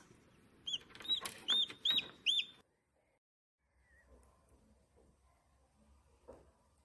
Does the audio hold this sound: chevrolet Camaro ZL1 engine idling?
no